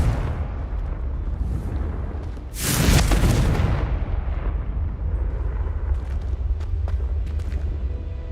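Confringo spell explosion in Hogwarts Legacy: one loud, broad blast that hits suddenly, roars for about a second and fades into a rumble, with faint clicks and chimes afterward.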